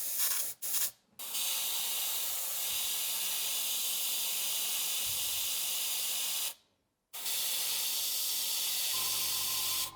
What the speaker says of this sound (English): The noise you hear in the background is the compressor.